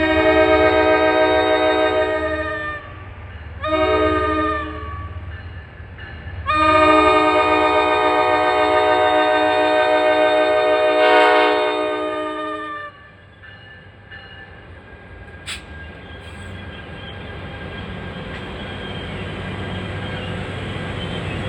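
A commuter train passing in Secaucus, NJ, blows a loud multi-tone horn in several blasts, then its wheels and cars rumble and clatter by as the horn ends.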